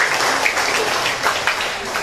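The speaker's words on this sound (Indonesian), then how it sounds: "Tepuk tangan untuk semua panitia untuk PBSE." A church congregation at a thanksgiving Mass for World Food Day claps for the organizing committee, a continuous moderate patter of many hands filling the space with no voices on top.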